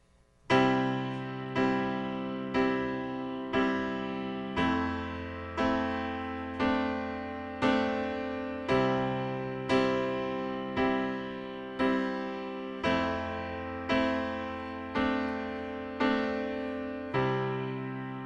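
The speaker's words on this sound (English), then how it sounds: "Now we're going to learn our first chord progression" Piano playing a simple chord progression, with about fifteen evenly spaced chords struck in a steady rhythm, each ringing and decaying before the next, clear and close with no talking.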